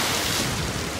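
Large ocean waves crash against rocks along the shore, a loud, continuous roar of surf and spray filling the whole moment with no voices heard.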